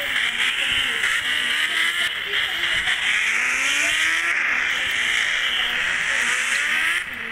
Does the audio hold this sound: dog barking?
no